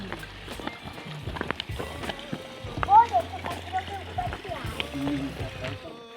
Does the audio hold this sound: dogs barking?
no